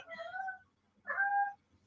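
A pet cat gives two odd, drawn-out crying calls unlike a normal meow, each about half a second with a pause between, close to the microphone and fairly quiet, with no speech over them.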